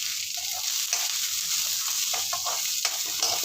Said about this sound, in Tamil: வெங்காயம் வதக்கி போடுங்க